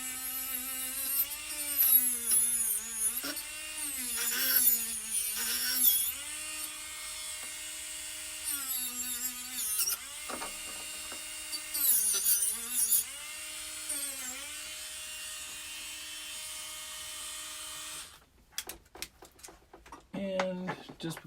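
Polishing wheel buffing silverware with white 2500 grit compound, a steady motor hum with warbling tonal pitch shifts as the piece is pressed to the wheel, and intermittent scraping, ending in sharp clatter.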